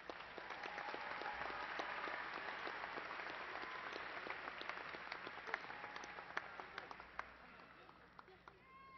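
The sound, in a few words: audience applause for graduates at commencement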